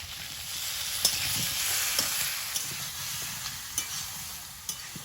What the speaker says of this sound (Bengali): পেঁপে আলুটা একটু ভেজে নিয়েছি এবার পেঁয়াজটা দিয়ে দেবো